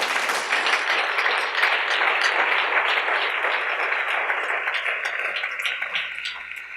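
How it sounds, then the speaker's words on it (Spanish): A church congregation applauds during an evening worship service, a dense, loud wash of many hands clapping together that holds steady for several seconds before beginning to thin out at the end. "Dile aplauso al Señor en esta noche."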